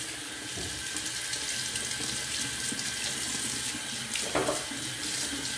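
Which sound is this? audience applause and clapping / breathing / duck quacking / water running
water running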